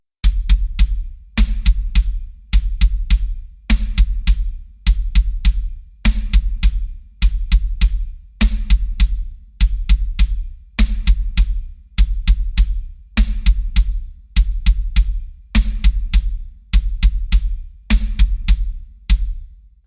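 Drum kit groove in a steady loop: hi-hat in even eighth notes, snare landing on beats two and four, and bass drum hits interleaved, loud and close with no talking.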